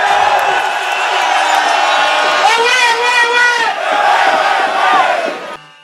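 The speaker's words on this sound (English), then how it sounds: "drawing waves of laughter and applause from the crowd" A large crowd at a political rally cheers and whoops loudly and continuously, with shouted voices rising and falling over several seconds before fading out at the end.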